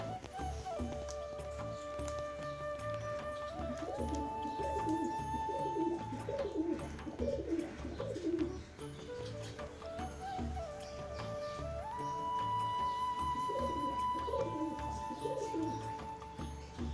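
Fancy pigeons of a Pakistani breed coo in low, repeated rolling calls over a steady outdoor ambience, with several birds overlapping close by and continuing throughout.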